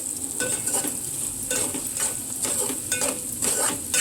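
Vegetables sizzling in a pan before tomatoes go in, a steady close frying hiss broken by repeated scraping and clinking strokes of a spoon stirring against the metal.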